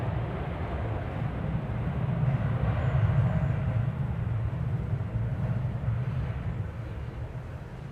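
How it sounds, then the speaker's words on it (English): An airliner departs DFW Airport on a flight to San Francisco, heard as a broad, distant jet roar that swells to a peak midway and then slowly fades. "Here goes that flight to San Francisco we observed earlier."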